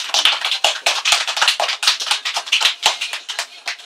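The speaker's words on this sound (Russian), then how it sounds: "Какие-то вялые аплодисменты" Sparse, weak applause from a small group at a Ded Moroz party in a rehab centre: loose, uneven claps scattered over about four seconds, close by and fairly soft, with no voices.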